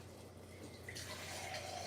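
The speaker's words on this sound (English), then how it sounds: "I'm going to add a little bit of water." Water pours into a pan of garlic and olive oil while supper is being made, a short quiet trickle and splash that grows slightly in the second half, with no voice over it.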